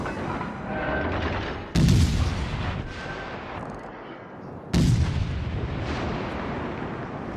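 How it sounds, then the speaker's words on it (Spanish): Enemy cruiser Königsberg in a naval video game fires heavy guns, two loud booming blasts a few seconds apart, each decaying into rumbling noise over a steady background of ship and battle ambience. "Sí, el Königsberg ahora te está disparando."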